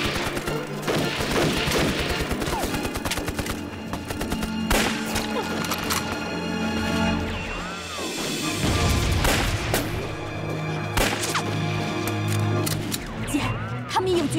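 Gunfire from a war drama with a sniper, with repeated loud shots and booming impacts layered over dramatic music and effects, dense and continuous through the scene.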